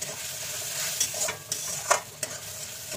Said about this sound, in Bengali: ভালো করে কষিয়ে নিচ্ছি অল্প জল দিয়ে